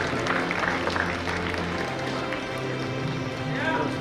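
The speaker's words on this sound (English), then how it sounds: "Can we use round of applause for each of the graduates" Audience in a hall applauding graduates at a formal ceremony, a dense, continuous wash of clapping from many hands, steady and moderately loud throughout.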